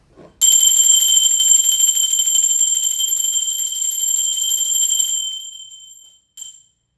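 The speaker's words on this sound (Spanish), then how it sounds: "va campana" A bell rings loud and sustained with a bright, steady metallic tone for about five seconds, then fades out, followed by one brief final strike.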